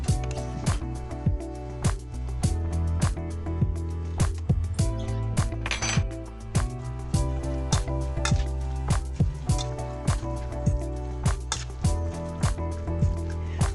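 A spoon scrapes and clinks against a bowl while blended onion and cabbage filling with a little water, salt and pepper is stirred together, repeated rhythmic knocks and squishy mixing sounds close by.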